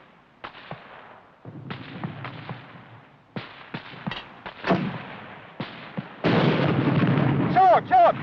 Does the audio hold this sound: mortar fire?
yes